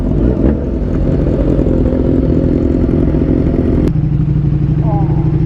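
Many motorcycles rumble together at close range in a crowded gathering, a dense, loud, continuous engine drone with clattering, and voices talk over it.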